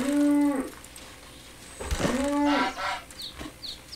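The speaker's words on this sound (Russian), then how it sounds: "Корова." A cow moos twice in the survival game Force of Nature 2, each call a long, loud, close low drone, followed by faint bird chirps in the background.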